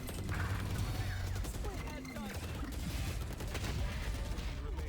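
Rapid gunfire bursts in a Valorant esports match on the map Sunset, dense and continuous under a busy mix of game effects, with commentators talking over it.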